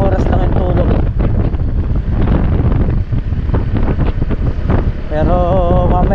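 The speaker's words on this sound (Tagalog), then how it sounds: "Lakas ng hangin oh." Strong wind buffeting the microphone outdoors on a farm on eggplant-harvest day, a loud continuous roar with some speech over it.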